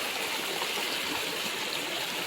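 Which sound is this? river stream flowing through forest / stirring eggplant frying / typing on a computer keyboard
river stream flowing through forest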